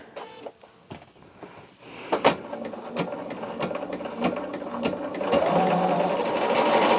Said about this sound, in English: We're just going to sew these on here.